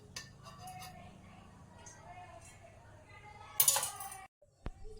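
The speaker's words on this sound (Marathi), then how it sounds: "गॅसवरती पातेले ठेवून घेतलेले स्टीलचं, यामध्ये 2 चमचे तेल घालून घेणार आहे" A steel pot is set down on a gas stove in a home kitchen, making a sharp metallic clank followed by a quieter knock, against a soft background where a voice talks.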